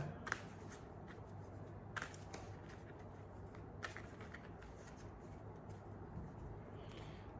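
Tarot cards being shuffled and drawn, soft riffles and a few sharp snaps over a low steady hum, quiet and close.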